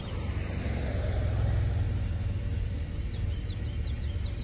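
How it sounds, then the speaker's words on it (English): A truck engine idles loudly and close, a heavy steady low rumble that continues throughout with faint bird chirps in the background. "Your truck is very loud."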